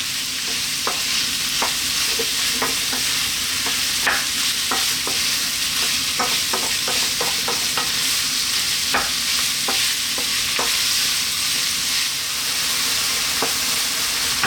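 About 500 grams of ground beef fries in a pan with constant loud sizzling, while a spoon stirs and scrapes it in repeated clicks and knocks.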